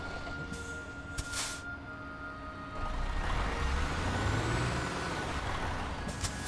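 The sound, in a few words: truck engine braking in Euro Truck Simulator 2 video game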